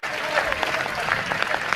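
A crowd at a Jain religious gathering claps continuously, a dense, lively patter of many hands with a voice talking faintly underneath.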